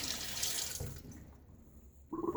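Water running from a tap onto a shaving brush and lather in a sink, a steady broadband rush for about a second that fades to quiet, then a brief louder splash or tap burst near the end.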